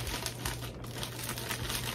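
Tissue paper and plastic packaging crinkle and rustle steadily for a couple of seconds while a Kurt Geiger XXL Kensington bag is unboxed, close and fairly loud, with no speech.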